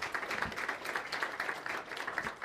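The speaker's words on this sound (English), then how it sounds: "let's give a round of applause if we can to everybody who's taking time out of their day" Audience at a banking lecture on the sub-prime crisis claps in steady, fairly dense applause of moderate loudness. The clapping runs throughout with no voices over it.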